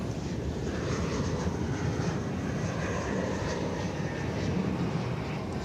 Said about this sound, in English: There's a plane coming in from Omaha you'll see in the foreground here in just a second.